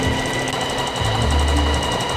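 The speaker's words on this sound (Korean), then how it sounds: "원단 3개에 끝단을 다 오버록 처리했고요" A sewing machine fitted with an overlock presser foot stitches along fabric edges, a steady close mechanical whirring and rattling hum that runs continuously with no talk.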